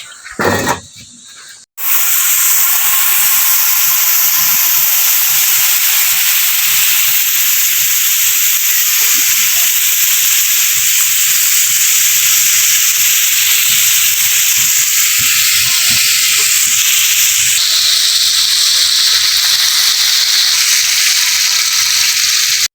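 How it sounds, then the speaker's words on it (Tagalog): Ingredients for Batangas-style pochero being sautéed, a loud, continuous hiss and sizzle of hot oil that carries on steadily for over twenty seconds after a brief clatter at the start. "Tayo magigisa na."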